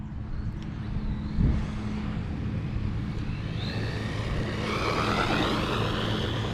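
A Hosim RC truggy driving at full throttle outdoors, a steady motor and drivetrain whine at moderate distance that grows louder and higher as it runs back toward the listener.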